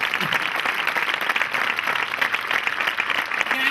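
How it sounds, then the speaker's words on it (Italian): An audience at a theatre comedy claps hard after the performance, a loud sustained burst of many hands with voices faintly underneath. "Un applauso."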